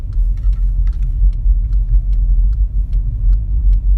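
Car engine during a driving lesson, a loud, close low rumble that holds steady with slight surges, with small rattles and clicks from the cabin.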